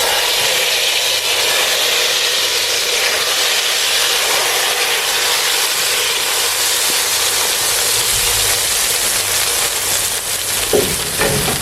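A hot tadka of curry leaves and cumin is poured into kadhi for curry pakora and sizzles in a loud, continuous hissing spatter from start to finish, with no talking.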